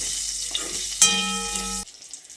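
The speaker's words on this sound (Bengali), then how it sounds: "এবার ফোড়নটাকে কিছুক্ষণ ভেজে নিচ্ছি।" A spice tempering with slit green chilies fries in hot oil, giving a loud, close sizzle that swells midway with a ringing tone before cutting off abruptly.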